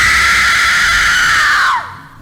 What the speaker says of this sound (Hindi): डर से उसकी चीख निकल गई।